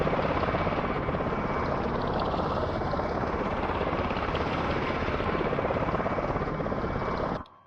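A Miltech Solutions Osprey tiltrotor taxiing in a flight simulator gives a loud, steady rotor thrum with rapid blade chop that holds throughout, then cuts off abruptly at the end, with no talk over it.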